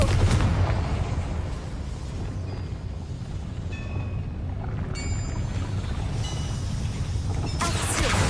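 Booming fire-spell explosion from Hogwarts Legacy, a loud broadband blast at the start followed by a continuous rumbling roar and crackle that stays loud throughout, with another burst near the end.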